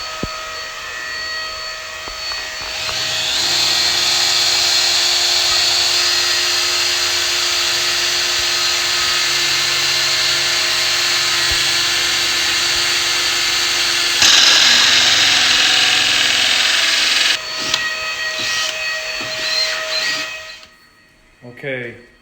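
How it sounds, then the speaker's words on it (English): A power drill runs in one long, steady, loud whine with a hissing edge during a laminate flooring install, holding for about fourteen seconds before easing off into irregular bursts and a sudden stop. "I'll hook it on and I'll use my drill."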